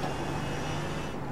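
A steady, loud race car engine roar drones continuously, heard on board in the iRacing video game during an IMSA race at Road Atlanta, with no pauses or voices.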